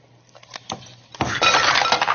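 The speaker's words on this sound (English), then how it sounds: "dump the ice cubes in here." Ice cubes tumble into a drinking glass: a few light clinks and knocks, then a loud rattling crash as the cubes pour in, close and with no talk.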